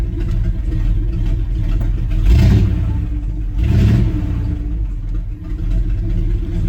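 A Power Wagon truck engine just after a cold start, idling with a low rumble and two short throttle blips that briefly swell louder, heard close and alone.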